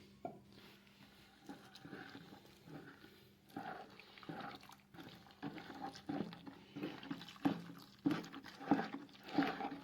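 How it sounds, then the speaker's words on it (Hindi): Ten kilograms of water poured into a white-oil foaming-agent paste and stirred slowly: faint liquid sloshing and scraping strokes, quiet at first, then building into a louder, rhythmic series of stirring swishes. "ये जो 10 किलो पानी है ये यहाँ पे डालते जाएंगे और इसको हिलाते जाएंगे"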